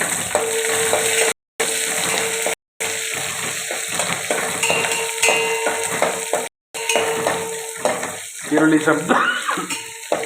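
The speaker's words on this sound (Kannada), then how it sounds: "ಇದಾದ ನಂತರ ಈರುಳ್ಳಿ ಹಾಕ್ತಾಯಿದ್ದೀನಿ." Onions dropped into hot oil in a pan for an aubergine dish, loud continuous sizzling and crackling up close with occasional stirring scrapes, broken by a few brief silent gaps.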